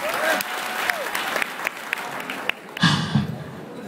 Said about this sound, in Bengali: তো প্রথমে আপনাদের জন্য একটা হাততালি হয়ে যাক।